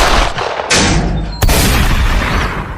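Loud, close gunfire-like booms in a comic Bengali village scene: a sharp blast near the start, another burst at about 0.7 s and a hard crack around 1.4 s, each followed by rumbling reverberation, with no talking.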